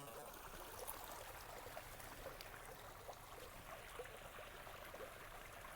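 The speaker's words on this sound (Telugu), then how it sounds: "ఆ సౌండ్ వినండి వాటర్ సౌండ్ వినండి" Water flows at Aluru Kona, a steady, soft, continuous rushing and trickling with no breaks, heard faintly and at some distance.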